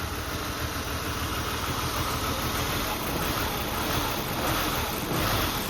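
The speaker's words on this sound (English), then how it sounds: "Still with that terrible idle." A Ford Taurus engine idles roughly, a constant low mechanical rumble with uneven throbbing, heard close and steady without any voices.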